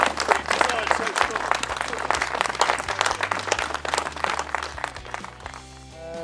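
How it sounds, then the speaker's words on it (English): A crowd applauds steadily, dense clapping that tapers off near the end as a voice begins speaking. "I think we should all give him another round of applause"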